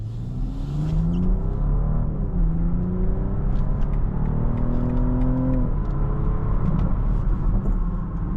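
A 2025 BMW X5 xDrive50e M Sport plug-in hybrid SUV accelerates on a test drive, its engine drone rising and falling in steady sweeps from inside the cabin, with no speech.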